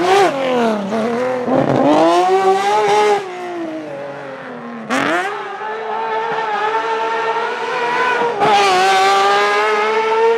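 A Citroën SM rally raid car built for the Dakar races at a rallycross event, its engine loud and close as it revs hard, drops off between gear changes and surges again.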